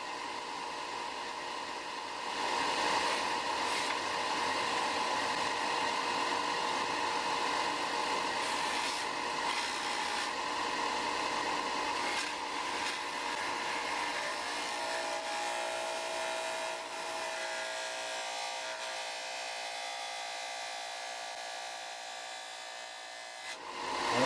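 A Rikon 50-112 belt/disc sander runs continuously while sanding wood, a steady whirring hum with a gritty rasp from the workpiece pressed against the abrasive, sustained and fairly close.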